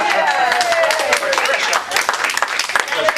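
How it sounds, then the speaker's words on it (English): Applause at a county commissioners' meeting honoring a staff member, Pat; scattered clapping from a modest group, fairly close and steady for a few seconds with some voices mixed in. "If anybody deserves a round of applause"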